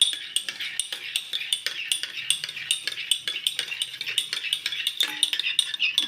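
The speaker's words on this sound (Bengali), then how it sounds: "দু চামচ ফেটানো টক দই আমি আরেকটু ফেটিয়ে নিলাম।" A spoon whisks beaten sour yogurt in a bowl, making a quick, steady run of light clinks and scrapes against the bowl's sides that carries on throughout, close and fairly crisp.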